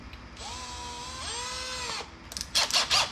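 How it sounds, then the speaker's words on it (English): A power drill with a quarter-inch cobalt bit whines steadily for over a second, rising in pitch as it speeds up, then stops, followed by a few clattering knocks. "So now I'm gonna get to drilling."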